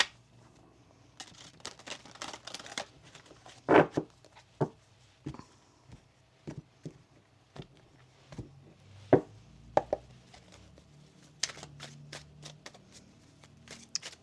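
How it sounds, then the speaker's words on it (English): Tarot cards being shuffled by hand in a series of quick, crisp riffles and taps, with short pauses between bursts, close and fairly quiet. "Let's get one more shuffle."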